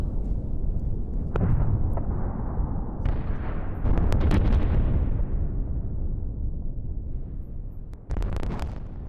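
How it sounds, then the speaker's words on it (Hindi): A series of heavy, rumbling explosions at a Russian drone depot, with sharp cracks and bursts, loud and booming, rolling on for several seconds with wind buffeting the microphone. "यूक्रेन के विस्फोट में रूसी ड्रोन गोदाम तबाह।"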